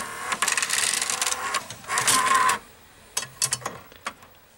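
A small VCR cassette loading motor turns cam gears inside a Samsung or Panasonic video recorder, giving close whirring bursts with plasticky clicks and ticks, then a few scattered mechanical clacks.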